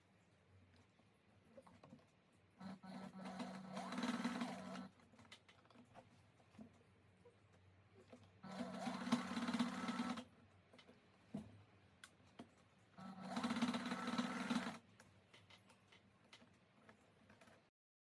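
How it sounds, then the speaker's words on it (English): A sewing machine stitches the edges of a princess-dart bustier blouse with a flounce, running in three separate bursts of steady mechanical whirring and ticking with quiet pauses between them. "So just go ahead and sew it just the way you see me doing"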